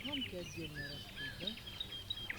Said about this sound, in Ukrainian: солові заходяться